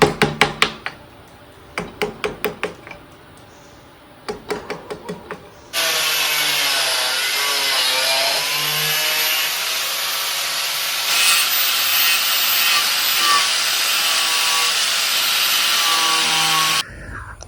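A teak root trimmed of waste wood, first with a few short bursts of rhythmic sawing, then a long loud continuous power-tool whine cutting steadily before stopping abruptly.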